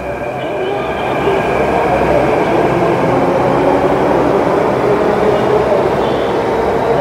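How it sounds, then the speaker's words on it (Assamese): A Delhi underground metro train passes in the tunnel with a loud, continuous rumbling roar that holds steady throughout, no speech heard. "এয়াই হ'ল দিল্লীৰ মাটিৰ তলে চলা মেট্ৰ'"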